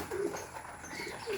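Tippler pigeons cooing inside a loft, two soft low coos near the start and end over a faint background hum.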